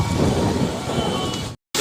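Heavy rain pours steadily at Gundicha temple in Puri, a dense continuous roar close by with no voices, broken by a brief silent gap near the end before the downpour returns.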